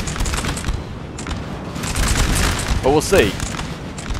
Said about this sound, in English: They're firing cannons